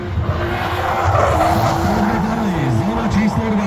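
BMW E36 race car sliding through a street-circuit hill-climb qualifying run, with handbrake correction: loud, close tire squeal wavering in pitch over steady engine roar.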